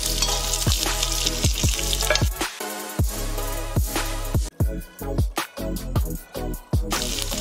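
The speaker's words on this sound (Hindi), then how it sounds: "अब मैं प्याज डाल दूँ।" Onion tipped into a masala for a soybean curry, sizzling loudly in hot oil with repeated scraping stir strokes over a steady frying hiss.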